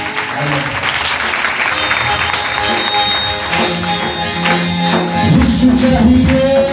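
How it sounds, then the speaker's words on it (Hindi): Church congregation clapping loudly and steadily through a Sunday meeting, with a sustained roar of applause, tonal music or voices ringing over it, and a busier swell near the end. "जोरदार तालियां बजाएंगे।"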